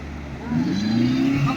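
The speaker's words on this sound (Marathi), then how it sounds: "रेस देऊन देऊन गाडी खाली धसून गेली" A car stuck at Diveagar on the Konkan coast revs hard as its wheels sink into soft ground. The engine whine climbs and holds close and loud, with faint voices in the background.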